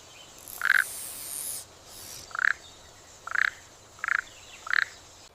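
Toads calling in the wild: five short, close croaks spaced about a second apart, each a quick burst over a quiet background with a soft hiss between calls.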